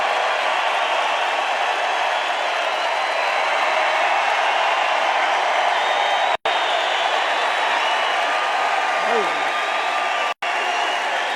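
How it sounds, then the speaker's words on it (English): An audience applauds in a sustained, dense wash of clapping at a political announcement event, steady and loud throughout with only two brief cutouts. "I don't think I've ever introduced anybody that got applause like that."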